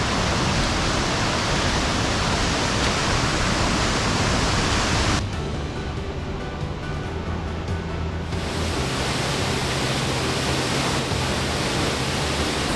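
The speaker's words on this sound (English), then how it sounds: "Beautiful little cave, massive waterfall." A massive waterfall thunders out of a small cave in New Zealand bush, a loud, dense, unbroken roar of falling water that dips briefly in brightness midway before surging back.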